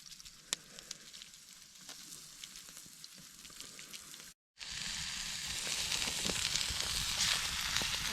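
Sirloin tip steak seasoned with Papa Ray's hits a hot BQ grill. A soft background hiss jumps into a loud, steady sizzle that holds to the end.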